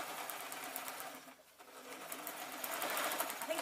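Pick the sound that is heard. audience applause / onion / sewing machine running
sewing machine running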